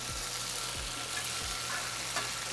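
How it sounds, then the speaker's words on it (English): Tofu sizzles in hot oil in a fried rice pan, a steady close crackling hiss that runs through the whole clip, with a few faint low thumps underneath. "Once the oil is hot in my fried rice pan, I'm going to add the tofu."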